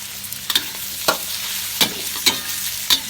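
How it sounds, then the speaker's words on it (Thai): Pork is stir-fried with fermented soybean paste in a pan, making a constant low sizzle with five or six sharp scraping strokes of the spatula, close up and without speech. "ผัดให้มันเข้าก่อน ให้มันเข้ากัน"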